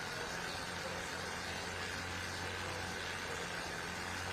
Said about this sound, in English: We start to hear the RPM start to go up here as we'll get those turbine engines fired up.